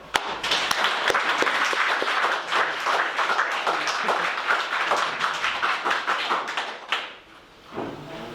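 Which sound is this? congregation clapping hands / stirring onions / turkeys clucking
congregation clapping hands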